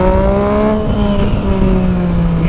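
Yamaha MT-09 motorcycle engine revving hard in its strongest riding mode A, a loud close roar with rising and falling harmonic pitch over a few seconds.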